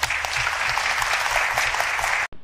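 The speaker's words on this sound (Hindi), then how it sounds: "सभी लोग गांधी जी के लिए तालियां बजाइए।" An audience at a children's Republic Day costume event claps for a child dressed as Gandhi after a sung bhajan, a dense, loud burst of applause that stops abruptly.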